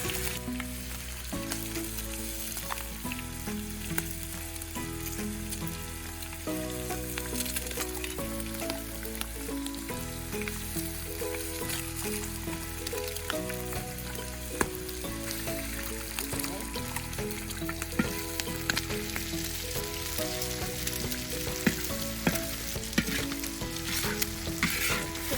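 Four eggs frying in a pan for pumpkin, veggie and bacon fried rice make a dense, constant, close sizzle that runs the whole time, with a person talking intermittently underneath.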